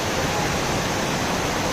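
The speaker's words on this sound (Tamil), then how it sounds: "அப்படியே அருவிலாம் கொட்டுது வேறு லெவலாக" Devkund waterfall near Pune pours down in a constant, even roar of rushing water that fills the whole moment without a break, with no voices over it.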